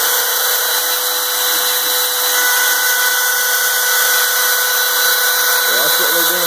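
A DIY CNC plasma/mill machine runs a long cut, giving a steady, loud high-pitched whine with a constant tone that continues unbroken throughout.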